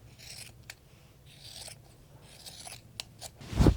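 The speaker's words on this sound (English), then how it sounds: "I cut the hem." Scissors snip through the hem of a shirt during hand mending at home, a few soft rasping cuts rising to one louder close snip at the end, with no talking.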